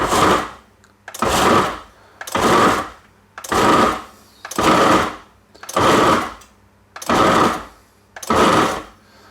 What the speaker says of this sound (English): I am just going to pulse this until I get a nice fine breadcrumb.